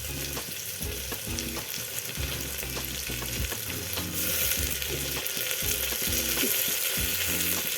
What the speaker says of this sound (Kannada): ಟೊಮೊಟೊ ಸ್ವಲ್ಪ ಮೆತ್ತಗಾಗೋ ತನಕ ಫ್ರೈ ಮಾಡ್ಕೊಳ್ಳೋಣ.